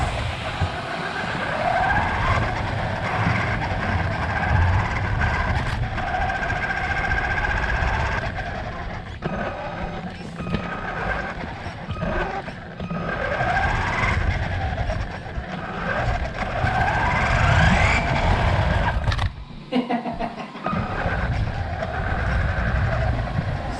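A CROBOLL 4x4 toy RC car drives backwards and skids, its small motor whining loudly and steadily with scuffing tyre noise and brief drops in sound near the end.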